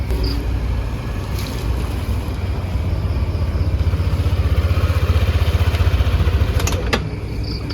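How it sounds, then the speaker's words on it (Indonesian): Traffic on a road, with a vehicle pulling over to park or stop on the road shoulder; a steady engine rumble runs throughout and builds slightly in the middle, with no voices. "kita mengambil contoh dari kendaraan parkir atau berhenti di bahu jalan."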